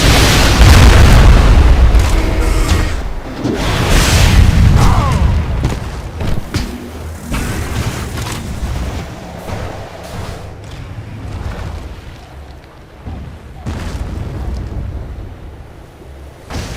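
Bombardment explosions from the strategy game Civilization: Beyond Earth: heavy rumbling booms that roll into one another, very loud at first, then a softer sustained rumble with a few later thuds.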